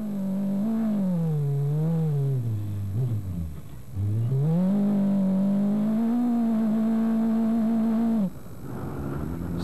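Onboard a Dakar rally car driven by Pierre Lartigue, crossing rough terrain in 1995: a steady, loud engine drone rises and falls in pitch as the revs change, with a brief dip before it climbs again, and no talking.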